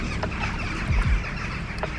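Chickens clucking outdoors at a farm that runs a spa: a couple of short, low clucks near the midpoint over steady open-air background noise, fairly close.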